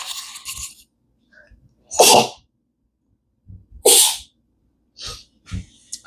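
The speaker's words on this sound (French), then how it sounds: "c'est l'heure des éternuements" A person sneezes several times, with two strong, loud sneezes and smaller breathy snorts and sniffs between them, close to the listener.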